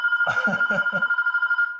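An uncle's mobile phone ringing in a live call-in show setting, a steady electronic tone pulsing in quick regular beats, fairly close, while people talk over the first second.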